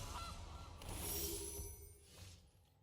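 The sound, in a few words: goose honking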